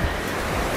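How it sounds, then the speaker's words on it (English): Ocean waves wash onto a beach on a clear day as a steady, broad hiss of surf with some wind noise, brief and continuous without talk. "We've got the ocean, it's beautiful blue skies."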